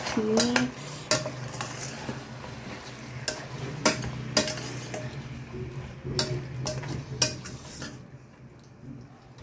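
Pork ribs being stirred in a pot with browned garlic and onion, sharp metal clanks and scrapes of the utensil against the pot over a faint sizzle, irregular and close, fading out near the end.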